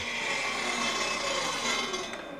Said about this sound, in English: That's because in a dado cut, the blade does not cut all the way through the wood.